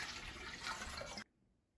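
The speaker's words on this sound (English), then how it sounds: "fill up your pot 3/4 of the way with water" Tap water runs into a cooking pot in a steady, splashy gush at moderate volume, then cuts off abruptly after about a second, leaving near silence.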